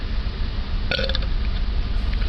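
A man lets out a single short burp over a steady background hum, brief and fairly faint.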